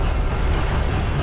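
A roller coaster train rumbles past at a Busch Gardens park, a steady, loud, continuous roar filling the short stretch with no talk over it.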